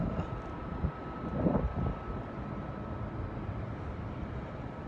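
Airplanes fly overhead on the last day of winter, heard outdoors as a steady, distant, broadband engine drone that swells slightly for a moment before holding level.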